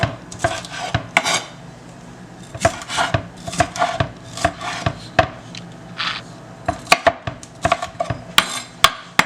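A knife chops peppers on a board in a steady run of crisp, sharp taps, close and fairly loud, with short pauses between bursts and no talking.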